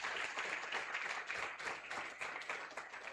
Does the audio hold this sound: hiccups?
no